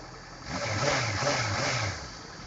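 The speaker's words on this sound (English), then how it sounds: "The motorbike is properly warmed up" A Honda CBR 650F motorcycle engine, ridden on Indian roads, rises into a short smooth rev and then settles back, a faint, muffled hum lasting around two seconds.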